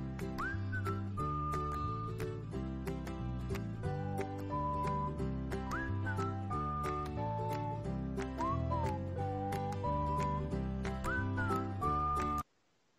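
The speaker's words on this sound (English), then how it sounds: "So there is the whistle." Whistled melodic phrases repeat over a steady musical backing with rhythmic percussion on a radio show, clear and continuous, with no talking.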